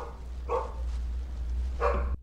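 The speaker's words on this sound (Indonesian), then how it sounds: "tiba-tiba saja Bo kembali menggonggong" A pet dog named Bo barks near the door of a house at night, two short, sharp barks with a pause between them over a steady low hum, no talking.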